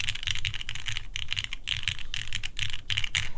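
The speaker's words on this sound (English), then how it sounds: "If you're typing in the middle especially, where it should be more noticeable." Fast, close typing on a Baionlenja Bias v2 mechanical keyboard, keys pressed fairly hard in dense clacking bursts with brief pauses.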